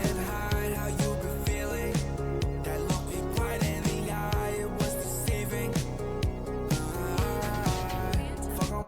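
A full music mix, glued together through a bus compressor and EQ, plays dense and steady with a pulsing beat and layered harmonic parts throughout, with no talking.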